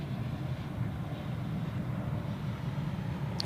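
A Swiss airliner bound for Toronto departs Zurich Airport, a steady low engine roar rumbling from a distance without much change; no talking.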